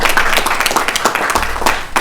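A brief burst of loud, close clapping from a crowd applauding graduates at the 2020 Walanga Muru virtual graduation, with dense overlapping hand claps throughout.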